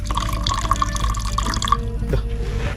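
Water drips at a drinking water point in Wayanad during an off-road jeep trip, a steady run of small plinking drops over a low background hum, with no talking.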